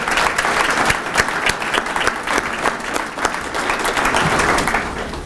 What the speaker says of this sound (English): How about a big round of applause for Ann Maxim and her team.